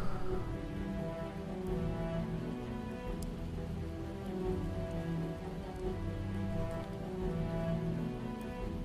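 Steady rain patters on surfaces in the video game Project Zomboid, a dense continuous wash with no voices over it.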